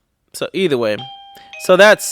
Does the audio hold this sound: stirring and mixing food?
no